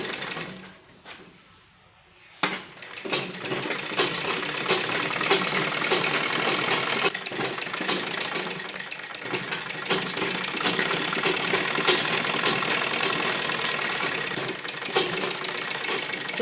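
A sewing machine stitches the hip seam of a toddler's Afghani salwar, starting after a short quiet pause and then running steadily and loudly for the rest of the stretch.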